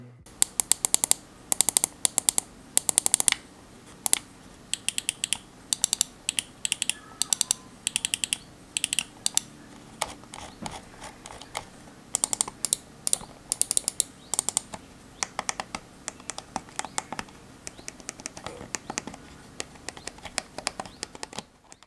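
Rapid bursts of crisp button clicks from a Redragon M908 Impact gaming mouse, coming in quick clustered runs with short pauses between them, close and fairly quiet, with no talking.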